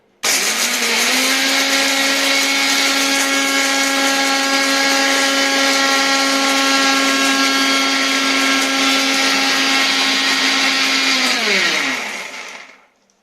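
A mixer grinder jar grinding whole spices for garam masala: a loud, steady motor whine that holds at a constant pitch for about eleven seconds, then winds down and stops. Close by, with no talking.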